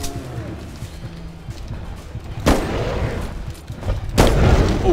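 Gunfire in a video game, shown as two sharp loud bursts that ring out over a steady background hum, the second one heavier and sustained to the end.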